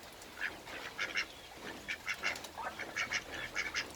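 Ducks quack in repeated short, nasal calls, several per second in loose clusters, at moderate distance over a faint outdoor background.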